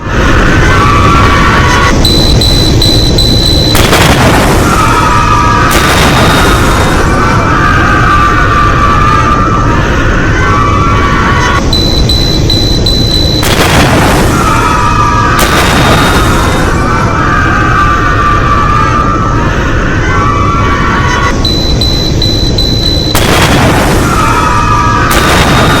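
Car blast near the Red Fort in Delhi at night: loud, dense booming bursts repeat through the whole stretch with broadband rumble and crackle, no voices.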